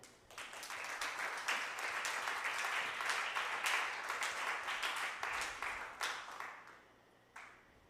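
A church congregation bursts into applause during a sermon, a dense, sustained roar of clapping building quickly and holding steady before tapering off near the end.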